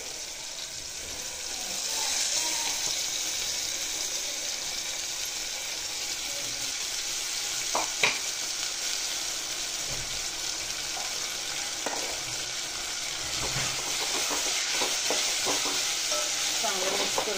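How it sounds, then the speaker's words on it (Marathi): Tomatoes and potatoes with ginger-garlic paste stirred in a hot pan, a continuous sizzle broken by scraping and clinking of the spoon against the pan, close and moderately loud with no speech. "टमाटो आणि बटाटो हे आलं लसूण पेस्ट घालून घ्या."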